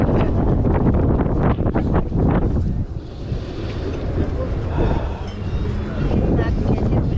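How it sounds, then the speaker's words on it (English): Strong wind blows outdoors at a flea market, a loud continuous gusty rush buffeting the microphone throughout, with voices talking over it. "Not to get hit with anything when that wind comes"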